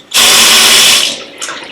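A kitchen sink tap in a serviced apartment bursts on at strong pressure, a loud, close hissing rush that holds for about a second before easing off into a lighter trickle and splash.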